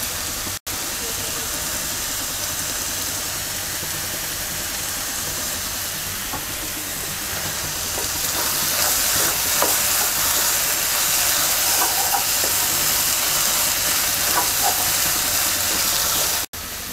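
Ash gourd and egg frying in a pan over medium-low heat, a steady soft hiss and sizzle that grows a little louder midway, with a few faint clinks.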